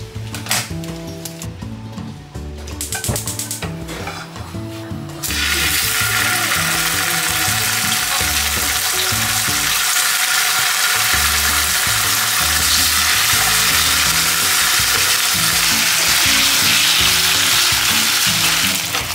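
Champorado, a thick chocolate rice porridge, boils and bubbles in a pot with a loud, continuous hissing burble that swells in after a few seconds of clattering and background sound.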